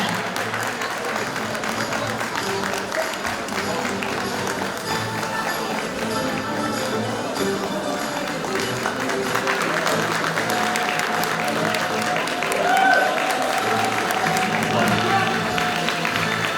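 Applause fills a Turkish awards ceremony as an export-company prize is presented, steady dense clapping from a large crowd sustained throughout, with a faint voice and some hall noise beneath and a brief swell near the end.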